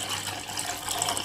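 Water poured into a pot before boiling eggs, a soft steady splashing and gushing stream heard close and fairly quiet for a brief moment with no talking.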